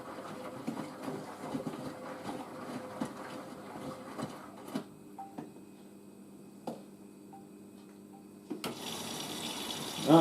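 A washing machine on its rinse cycle drains water away, with a steady trickling and gurgling flow, soft knocks and mechanical clicks, ending in a louder rush of draining water.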